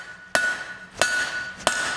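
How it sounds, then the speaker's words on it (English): Blacksmith's turning hammer striking metal: three sharp, ringing blows about two-thirds of a second apart, close and loud, each leaving a brief metallic ring with no talk. "just like the other hammers, the turning hammer gives us an awesome texture,"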